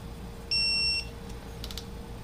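A torque wrench set to 62 foot-pounds gives a single clear electronic beep of about half a second, heard alone against quiet workshop background during a Nissan VG30E cam install.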